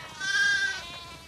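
A single sheep bleat in The Last of Us Part II rises briefly over a low steady background rumble, close and clear.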